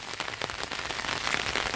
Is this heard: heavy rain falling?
yes